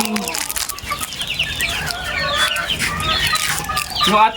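Chickens in a breeding area, including a golden boy hen, cluck and call busily in a dense, overlapping chorus, close by and fairly loud, with scattered sharper squawks throughout.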